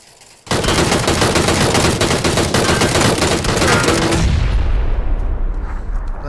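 Gunfire in PUBG on Xbox One erupts after a brief quiet, with loud rapid automatic bursts for several seconds before fading into a reverberant tail.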